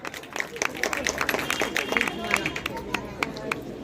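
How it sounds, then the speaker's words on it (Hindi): Audience at a Seva Bharti chaupal ceremony claps along in a fairly soft, steady patter of many hands, with some crowd chatter mixed in. "जोरदार तालियां"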